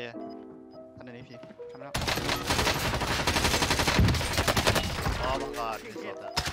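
Rapid gunfire in the shooter game Call of Duty: Warzone: after a quiet opening, dense, loud bursts of shots and fusillade crash in and continue steadily, fading slightly near the end.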